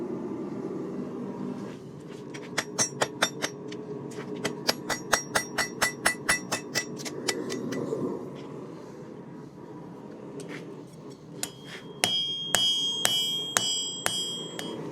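A hot steel nail is hammered on the edge of an anvil in a forge, with runs of sharp ringing metallic strikes in steady rhythm, pauses with a low background hum, then quicker clustered blows at the end.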